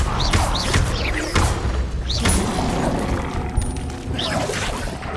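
The Incendio fire spell is cast in Hogwarts Legacy, with repeated booming bursts and whooshing flares of magical fire recurring every second or so amid game combat noise.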